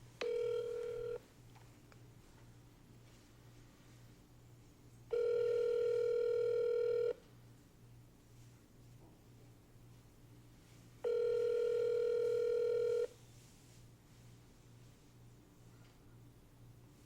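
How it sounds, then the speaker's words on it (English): A phone call rings out while a sales rep dials a healthcare staffing company's VP of Engineering. Three long, loud, even ring tones repeat at regular intervals with quiet gaps between them and no speech. "We're going to do one more call to a contact that's a VP of Eng that I've spoken to in the past, named Jai"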